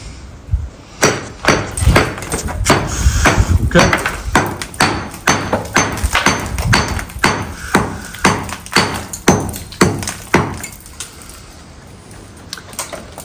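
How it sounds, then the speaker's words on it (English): A chipping hammer strikes repeatedly in a steady rhythm of sharp, loud impacts against hard material, with voices talking briefly in the background. "with the chipping hammer"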